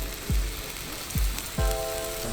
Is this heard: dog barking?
no